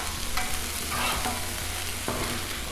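Beef noodle stir fry on a Blackstone griddle, a constant close sizzle under sharp metal spatula scrapes and taps, loud and busy without speech.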